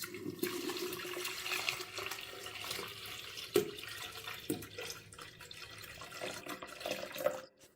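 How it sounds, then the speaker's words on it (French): Half a litre of water poured into a transparent container, a continuous splashing stream for several seconds with a couple of clunks, fairly soft and with no talking. "je vais en verser un demi-litre dans un récipient transparent"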